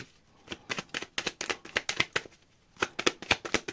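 A deck of tarot cards is riffled and shuffled in quick, crisp bursts, with a short pause midway before another rapid run of snappy card flicks, close and fairly quiet.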